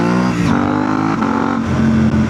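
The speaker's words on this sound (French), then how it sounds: "Regardez, par exemple, je rétrograde en deuxième." KTM 890 Rally adventure motorcycle downshifting into second gear off-road, engine revving loud and close with a steady harmonic drone and brief blips as the gear drops, no voices.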